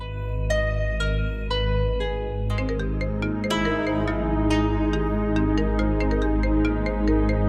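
A phone ringtone plays a bright, repeating electronic melody of chiming tones over a sustained low backing, loud and steady throughout with no talking.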